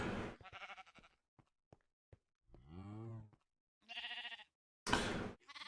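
Blocky Minecraft sheep in the Agrarian Skies modpack bleat in several separate, clear, wavering calls, each followed by near silence and a few faint clicks.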